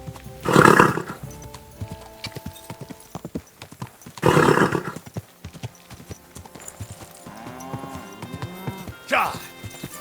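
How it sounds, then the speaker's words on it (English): A horse in the medieval game Kingdom Come: Deliverance II snorts and neighs in loud bursts over a steady clip-clop of hooves close by, with a voice speaking briefly. "Easy, good horse."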